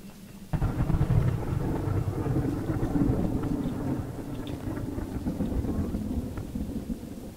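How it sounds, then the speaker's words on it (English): Thunder and steady rain rumble in the Choo Choo Charles horror train game, a dense, loud low roar that starts abruptly and carries on unbroken. "What's up with all the thunder?"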